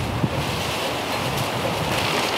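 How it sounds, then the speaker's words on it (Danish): Steady, blustery wind rushes over the microphone outdoors at a charcoal grill, a constant loud roar with no break and no voices. "Det blæser hver dag"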